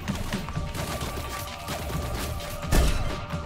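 Sniper rifle fire in a first-person shooter match, a dense layer of game noise with scattered cracks and one heavy close shot near the end, loud and continuous with no voices.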